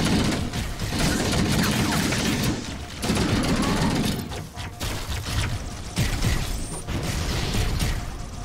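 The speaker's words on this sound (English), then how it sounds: "That's quite an explosion." Explosions in the shooter game Halo: Master Chief Collection give loud, rumbling bursts with crackling debris that swell and fade several times amid ongoing battle noise, with no talking.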